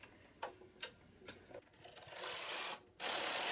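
A knitting machine carriage is pushed across the needle bed on a free pass, first a few scattered clicks and rubs, then a steady close mechanical rasping slide that briefly pauses and resumes.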